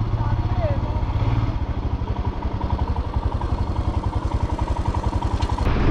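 A touring motorcycle pulls up at Solang Valley near Manali, its engine thumping in a steady, close rhythm before it cuts out abruptly at the very end.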